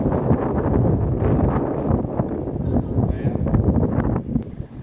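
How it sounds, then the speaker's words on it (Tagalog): Strong wind during Typhoon Ragasa, roaring and buffeting against the microphone continuously, loud and close, with voices talking faintly underneath. "Lakas pa ng hangin eh"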